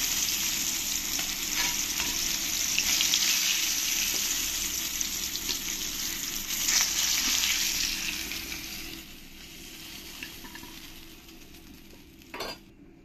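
Rohu fish pieces fry in oil with a loud, dense sizzle that continues and then fades toward the end, with a sharp utensil clink near the finish and no voices.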